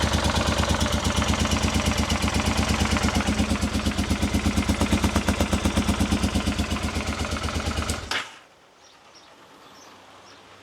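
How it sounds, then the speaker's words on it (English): A Honda Africa Twin motorcycle engine running on its rear cylinder only, a loud close-up rhythmic clattering chug that carries steadily for about eight seconds, then cuts off abruptly into near silence. "She's only running on the rear cylinder, unfortunately."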